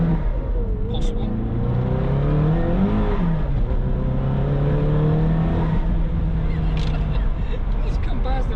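A car accelerates past a Vauxhall Insignia on the road, its engine note rising and falling steadily and loudly throughout, with people talking over the sustained drone inside the vehicle.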